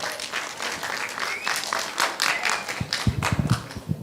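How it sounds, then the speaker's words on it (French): A ciné-club audience claps for a woman after a film screening: a sustained patter of many hands, with a few sharper, closer claps standing out toward the end. "Bravo, applaudissez pour elle aussi."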